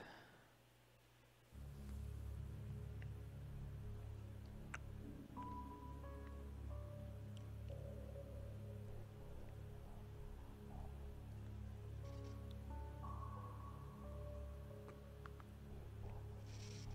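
Steady rain falls in the intro of the Corpse Party horror game, a dense, even hiss starting abruptly and continuing throughout, with faint melodic tones drifting above it.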